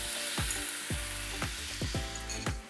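Stir-fry for san choi bao sizzling in a hot pan just after the sauce goes in, a steady close hiss broken by repeated scraping strokes of the stirring utensil.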